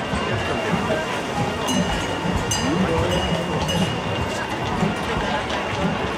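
A tram rumbles past on a street in a steady, loud wash of rolling wheel and motor noise with faint rhythmic clacks, a busy outdoor setting with indistinct voices underneath.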